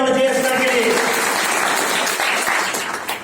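An audience at a meeting breaks into loud applause, a dense burst of clapping that blends with voices at first and fades slightly toward the end.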